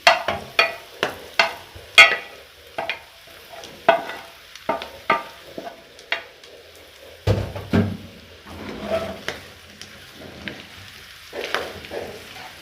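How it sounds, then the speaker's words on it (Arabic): Fesha (offal) sautés with onion in a pan, with sharp bursts of sizzling and repeated scraping stirs coming close and loud in an uneven rhythm. "لغايه ما احس ان الفشه بتاعتنا اتشوحت شويه في البصله"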